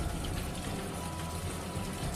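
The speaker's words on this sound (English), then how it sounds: "There's a lot of water coming out here." Water pours out of an excavated villa wall at Herculaneum in a continuous, broad rushing gush that stays fairly loud and even throughout.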